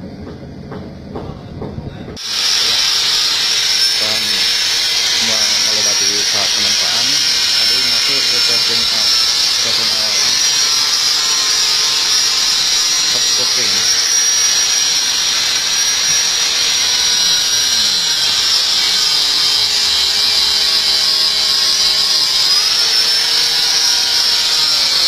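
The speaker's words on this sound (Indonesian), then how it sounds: "Yuk kita langsung menuju proses gerinda." A power grinder runs steadily on a samurai sword blade, a loud, continuous high-pitched whine that starts abruptly after a short pause and holds for over twenty seconds, close and alone.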